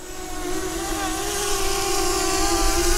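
A Hubsan Zino Mini Pro drone whirs up for takeoff in a residential neighborhood, its steady high-pitched motor and propeller tone holding loud and close and swelling slightly as it rises.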